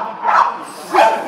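A dog gives two loud, close barks about half a second apart, each a short, rough yelp during a confrontation with other dogs.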